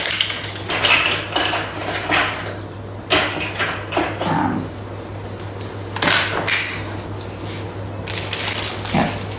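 Metal cutlery clinks and rattles in a kitchen drawer while someone rummages for measuring spoons, a run of close, busy jangles with brief pauses, over a steady low hum.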